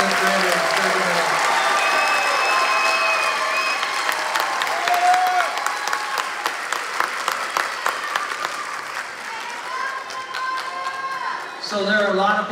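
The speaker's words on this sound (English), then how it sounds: "applause for our promoting class of 10th graders." Sustained audience applause with clapping and some crowd noise fills a school promotion ceremony for a graduating class, dense and steady for most of the stretch, easing slightly near the end before swelling again.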